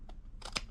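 Scissors snipping a fabric flap, a few quick, faint close crisp cuts in a quiet room.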